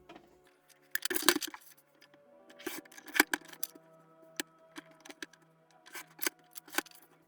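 Scissors cut paper for a bullet journal with close, crisp snips and crackles in irregular bursts, several distinct cuts spread across a few quiet seconds with soft paper rustling between them.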